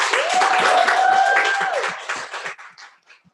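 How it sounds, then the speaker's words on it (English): An audience at an environmental justice waterfront symposium on Staten Island claps warmly for a few seconds before the applause thins out into scattered last claps. "Please give her a warm round of applause."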